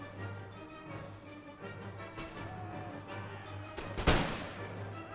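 Canister shot artillery fire in Empire: Total War, a United Kingdom versus United States battle, with a steady din of distant musketry and a loud, close cannon blast near the end.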